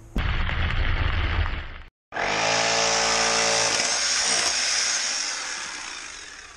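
Rock drill boring holes into stone for amethyst extraction, loud and continuous, with a brief cutoff near two seconds before the hammering roar resumes and slowly fades toward the end.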